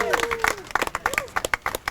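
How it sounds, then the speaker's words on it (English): A crowd claps at an outdoor ribbon cutting for an urban trail in Revere, with brisk, uneven handclaps mixed with cheering and excited voices close by. "Let's clap again"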